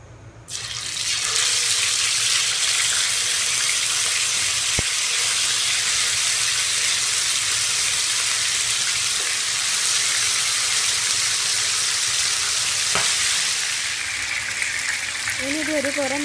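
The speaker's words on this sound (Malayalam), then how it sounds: "എണ്ണ നല്ലപോലെ ചൂടായതിന് ശേഷം ഓരോ ലെഗ് പീസും ഇട്ട് കൊടുക്കാം." Chicken leg pieces fry in about half a cup of well-heated oil, giving a steady, loud, broad sizzling hiss that holds evenly before easing slightly toward the end.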